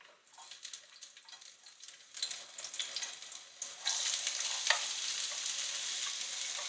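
Sliced onion dropped into hot oil in a skillet sizzles and crackles, building from faint scattered frying to a louder, steady hiss with a few stirring scrapes, with no talk over it.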